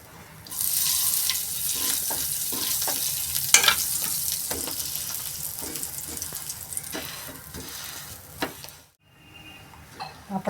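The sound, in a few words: pav bread roasting in ghee in a pan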